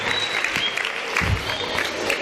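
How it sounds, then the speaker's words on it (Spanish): Short burst of audience applause for a group of girls, steady clapping at moderate level with a few louder claps standing out, no speech over it. "Un aplauso para ellas, por favor"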